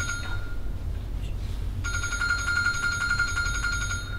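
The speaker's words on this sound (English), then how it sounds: "That's the alarm." In a house where a boy left alone sleeps, a shrill electronic alarm bursts into a steady, insistent ring partway through and keeps sounding loudly without pause; no one speaks over it.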